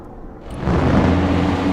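An airstrike explosion hitting its target in the video game Broken Arrow: a short quiet lead-in, then a loud, sustained broadband blast rumble that swells and holds to the end.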